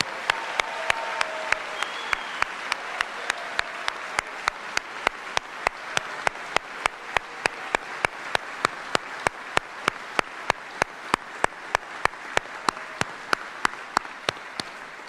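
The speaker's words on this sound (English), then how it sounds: "Let's take a moment to appropriately give them some support with applause for all they've done for our soldiers." Sustained applause from a large crowd at a US Army general officer retirement ceremony, dense and steady for about fifteen seconds, with a sharp regular clap standing out close by throughout.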